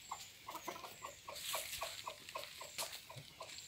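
Backyard hens in a chicken house in Karnataka cluck softly in a steady repeated rhythm of short notes, fairly faint, with a brief louder rustle partway through and no talking.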